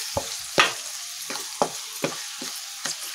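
Tomatoes fry in a pan for capsicum chicken fry, a low sizzle broken by about seven sharp, close scraping strokes of a spatula at a fairly regular pace, with no talking.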